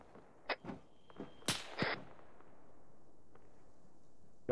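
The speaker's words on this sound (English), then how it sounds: "Audible gunshot east." A distant gunshot in a military video game operation, with several sharp cracks and one louder broadband report near the middle, standing out over a quiet background.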